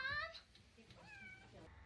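A cat meows in a couple of short, rising calls, the first loudest at the start and a softer second one following, heard fairly close over a faint low background.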